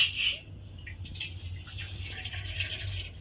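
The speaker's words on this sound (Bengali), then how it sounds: "এবারে আমি কড়ার মধ্যে জল দিয়ে দেব।" Water being poured into a karai on a gas stove, a brief splashing pour at the start followed by faint trickling and dripping over a low steady hum.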